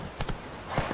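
Hooves of Roach, the horse in The Witcher 3, strike in two quick pairs of clip-clops, fairly close and moderately loud over faint background noise.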